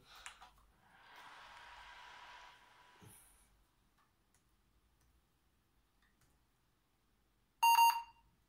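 An old Asus L5D laptop powering on: a soft hum and faint clicks, then one short, sharp electronic beep near the end, all in an otherwise quiet room.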